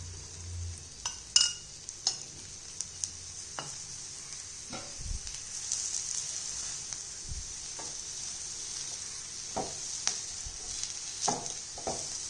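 A vegetable cheela fries in oil on a pan, giving a faint steady sizzle with scattered light clinks and scrapes of a spatula against the pan, and no talking.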